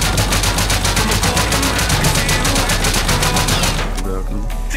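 Rapid bursts of crackling explosions fire in a dense, fast rhythm, like a barrage of bootleg fireworks in the modded video game Rust during a raid, then cut off abruptly near the end.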